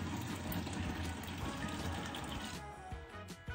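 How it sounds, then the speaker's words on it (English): Hot water pours steadily into a fermenting vessel in a home kitchen, a close, continuous gushing splash that thins out near the end. "we are going to add some hot water"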